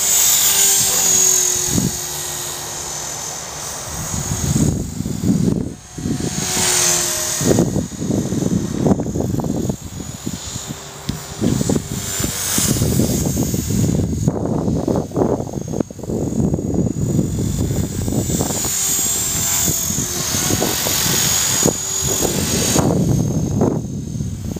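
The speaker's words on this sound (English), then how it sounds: "I'm used to flying my helicopters with a" A small radio-controlled model helicopter's rotor and motor whine steadily for the whole stretch, rising and dipping in pitch as it hovers and maneuvers nearby.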